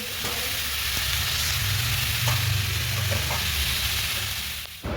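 Sliced onion and salt fry in hot oil in a pan, giving a close, steady hissing sizzle that runs unbroken with a few faint clinks near the end.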